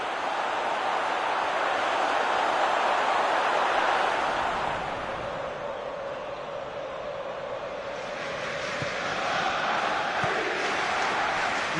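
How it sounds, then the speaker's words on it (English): Stadium crowd noise from a PES 2020 football match, a steady broad roar of spectators swelling and easing over the whole stretch, fairly loud and continuous with no clear commentary over it. "Well, at least the crowd are appreciative of his efforts."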